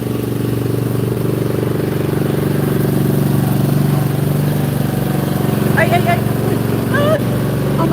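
A lawn seeding machine runs in a backyard with a steady, loud engine drone and a mechanical clatter. A person talks over the continuous rumble.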